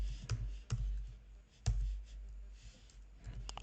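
Light clicks and taps of a computer keyboard being typed on, sparse and irregular with short bursts and pauses, close and quiet, with no talking.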